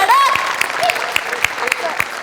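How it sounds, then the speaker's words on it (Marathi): A studio audience at a comedy show claps in scattered, uneven bursts, individual hand claps standing out sharply while voices talk over them. "सो बनेसाठी एकदा टाळ्या."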